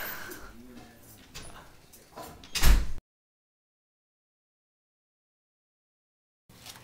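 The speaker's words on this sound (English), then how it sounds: "Door doesn't open." A door is tried but does not open, giving a short loud rattle and thump after some quiet background noise, then silence.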